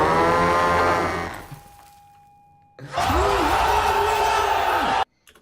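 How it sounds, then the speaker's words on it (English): Designed creature call for an imaginary horse-sized duck, a loud, deep, mooing honk that breaks off into near silence, then returns as a second long, bellowing, warbling call before cutting off abruptly. "Let's hear it for the horse-sized duck"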